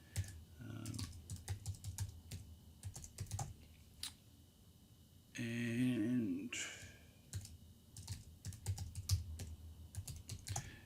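A computer keyboard clicks as a password is typed, in quick bursts of light keystrokes with short pauses and a brief mid-clip sweeping noise. A voice speaks faintly in the background.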